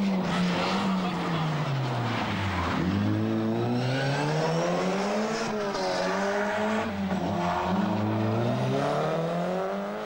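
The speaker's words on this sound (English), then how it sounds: "Malcolm Wilson with a 6-speed gearbox in the Astra GTE." Vauxhall Astra GTE rally car with a 6-speed gearbox on a Welsh stage of the 1988 British Open Rally Championship. Its engine revs hard and sweeps up and down through gear changes, loud and continuous throughout.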